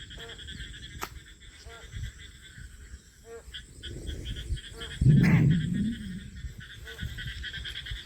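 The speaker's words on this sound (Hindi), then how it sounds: "ये देखो जी चारों तरफ मेंढक ही मेंढक बोल रहे हैं।" A chorus of frogs croaks all around in overlapping pulsing calls during rain near sugarcane fields, with a louder, rougher burst partway through and insects faintly droning.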